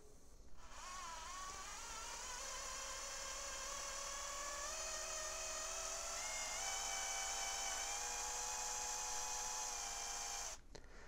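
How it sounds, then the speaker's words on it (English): A Lee case trimmer cuts 300 Blackout brass, giving a loud, close, steady high-pitched whirring whine. The pitch drifts slightly as it runs for about ten seconds, then it stops abruptly. "let's see what this lee trimmer comes out to"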